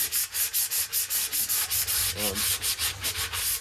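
Coarse P40 sandpaper scrubs a metal car sill in a dry garage: fast, rhythmic, loud back-and-forth rasping strokes, close up and with no voices.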